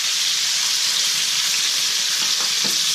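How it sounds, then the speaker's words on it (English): A steak sizzles and fries steadily in a hot pan as it is flipped, a loud, dense, continuous hiss with a few faint knocks near the end, no voices. "Alright, we've got our steak here. We're going to flip it one last time."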